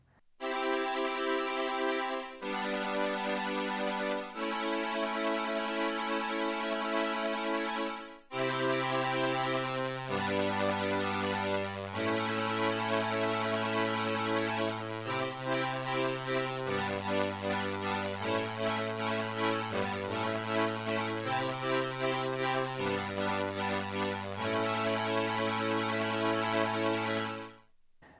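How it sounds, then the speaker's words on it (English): A Technics SX-K200 keyboard plays its string ensemble voice after a repair, producing lush sustained chords with a changing bass line. The sound is steady and full for almost half a minute, with a brief break near the start, and no one speaks. "And then upper will be the string ensemble."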